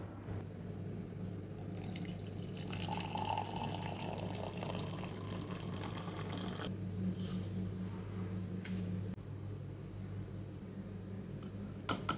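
Hot water runs and pours steadily for a Bournvita drink in a home kitchen. The liquid hiss is continuous and moderately close, with a faint background hum and no talking.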